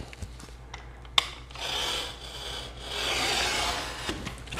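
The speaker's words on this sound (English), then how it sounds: "What I really want to do is cut off all this excess material." Beer box cardboard is cut on a cutting board, close rasping and rubbing strokes in uneven bursts, with a sharp tap early and a longer steady scrape later, no speech.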